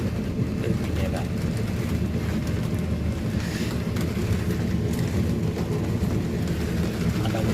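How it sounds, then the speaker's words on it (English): Heavy rain pours down outside, a steady, dense hiss that holds evenly throughout with a rough, windy, buffeting character and no pauses. "it's absolutely pouring it down outside"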